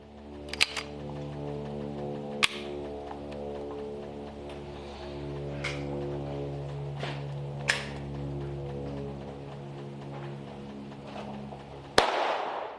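A Sig Sauer P322 pistol with a leaded barrel fires CCI standard velocity lead-nosed rounds: about five sharp, fairly quiet cracks at irregular intervals over a steady low hum, the last one louder.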